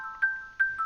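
A phone rings in the video game Ten Dates, a clean electronic tone pulsing twice in a steady pattern, moderately loud and alone.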